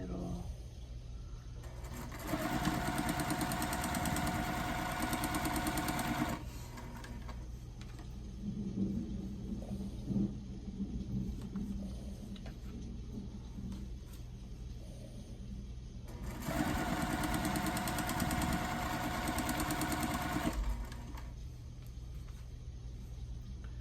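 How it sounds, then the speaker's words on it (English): A sewing machine stitches quilt tulip units corner to corner in two clear bursts of steady running, separated by a quieter pause, fairly close but soft overall. "And then sew corner to corner right down the middle."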